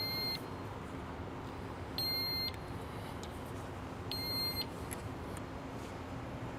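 Two short bursts of high-pitched electronic beeping from a GED HMP-610 pump's alarm, separated by a pause, over a steady low mechanical hum.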